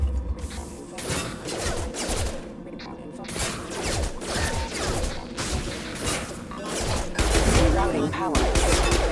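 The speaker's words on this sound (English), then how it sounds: "Taking heavy fire." Heavy gunfire rattles through a Mass Effect 2 battle: rapid bursts of shots mixed with sharp crashes and impacts, loud and close, continuing under spoken voices and building toward the end.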